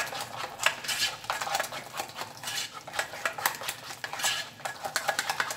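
Pastry cream with a spoonful of butter being stirred in a pot, a utensil scraping and tapping against the metal in quick irregular strokes, close and clear with no talk.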